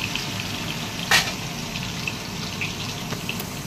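Fish curry cooks in a pan in a home kitchen with a steady, even sizzling hiss that holds throughout, broken by a few faint clinks.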